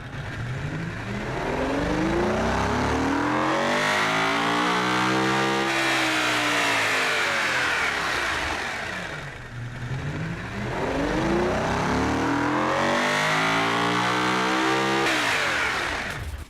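A purpose-built hearse's high-horsepower engine revs hard and loud, rising and falling in two long sweeping pulls with a brief dip between them, close up and with no talking.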